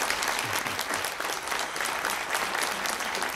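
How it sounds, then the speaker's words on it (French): A festival debate audience claps for a guest seated at the centre of the panel, giving a continuous, full round of applause that stays loud and even throughout, with no speech over it. "il faut l'applaudir"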